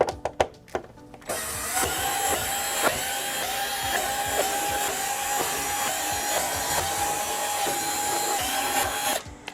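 A power screwdriver whirs steadily while backing out machine screws from the back cover of a Sony XBR-65X850D television, preceded by a few sharp clicks and handling taps before the long, continuous motor drone.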